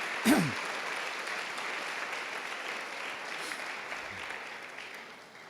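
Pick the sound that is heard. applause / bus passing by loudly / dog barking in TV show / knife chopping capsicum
applause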